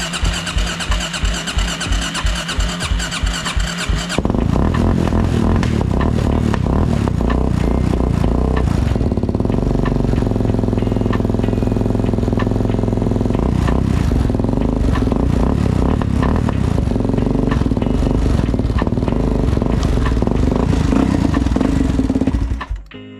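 Kawasaki KFX 400 ATV with a carburetor fault, a few rhythmic cranking pulses before the engine catches and runs loud and close, revving and rattling steadily for about twenty seconds before cutting off.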